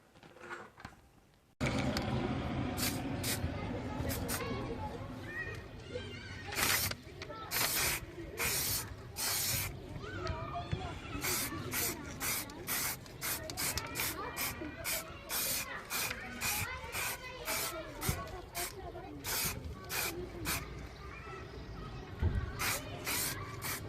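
Short repeated bursts of spray paint hiss as Renault Megane 2 interior grille parts are painted, coming in an irregular rhythm of quick puffs over a steady background.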